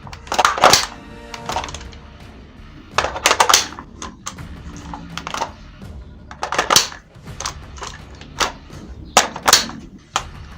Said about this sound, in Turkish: Bu mandal ileri doğru itilmek suretiyle şarjör çıkartılır.